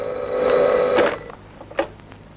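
An old-fashioned telephone bell rings in a hospital, one loud, near jangling ring lasting about a second and then a short second burst, with no talk over it.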